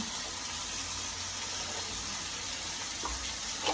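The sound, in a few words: mushrooms frying in a pan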